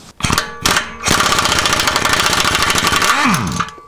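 A nut on the engine of a Hyundai Accent, sprayed with WD-40, is worked loose with an air or impact tool, giving a loud, close, continuous rattling hammer that runs for about three seconds after a couple of short bursts.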